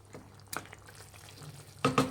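A spoon stirs capsicum green chicken curry in a pan, giving soft scraping and a faint sizzle, with a couple of louder scrapes near the end.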